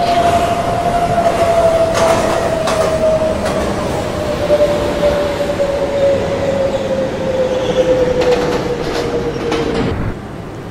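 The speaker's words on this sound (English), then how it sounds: "local train is now arriving on the local track." A local subway train in a Roblox game pulls into a Times Square–42nd Street station, a loud steady rumble with a long descending wheel squeal and faint clicks over nearly eleven seconds, no talking.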